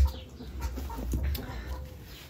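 Farm turkeys and poultry call and cluck near a vegetable garden in the Krasnodar region, several short birdy calls scattered over a low rumble, fairly close, with no talk.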